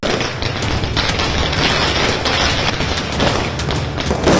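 Dense, continuous crackling bursts of Diwali firecrackers going off in rapid succession, loud and chaotic, with deeper thumps mixed in.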